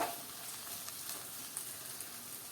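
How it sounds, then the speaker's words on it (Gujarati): Capsicum hits a hot pan and gives off a soft, steady sizzle. The sound stays faint and even throughout, with no talking. "હવે આપણે ઉમેરી દઈએ સિમલા મરચું"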